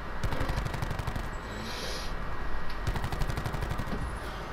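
Automatic gunfire in the Black Ops 4 video game, rapid evenly spaced shots in two sustained bursts separated by a brief pause, loud and close with no talk over them.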